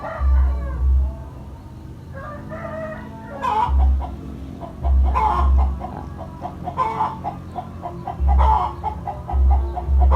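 Chickens with colds and noisy throats cluck on and off nearby, with low thumping sounds and short gaps between the calls.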